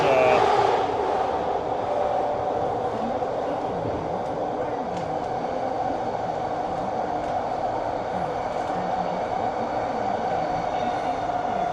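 A Vancouver SkyTrain Expo Line car rumbles along at a steady pace, heard from inside the train. A low, even rolling drone continues with faint rail clatter throughout.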